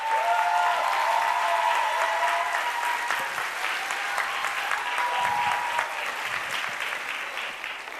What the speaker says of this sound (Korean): 뜨거운 박수 함께 부탁드립니다